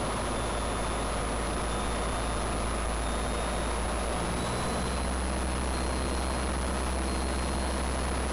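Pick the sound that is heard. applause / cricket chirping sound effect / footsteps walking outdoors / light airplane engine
light airplane engine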